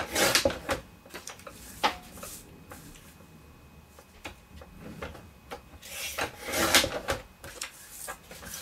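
A magazine page is trimmed off, with a series of close, dry scraping and rubbing strokes of paper, irregular bursts and pauses between them, no voices.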